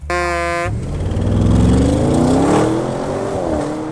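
An Audi RS6 Avant accelerates hard, its loud engine note climbing steadily in pitch through a sustained pull after a brief higher tonal sound at the start, with no talking.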